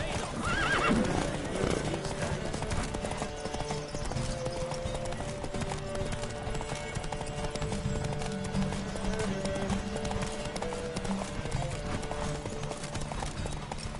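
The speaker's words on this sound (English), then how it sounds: "Don't spare the horse!" A horse galloping in a race in the video game Witcher 3, rapid rhythmic hoofbeats continuing throughout with a neigh near the start, under game music and shouted voices.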